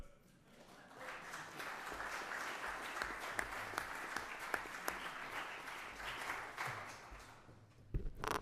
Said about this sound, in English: And I will let y'all give them a round of applause.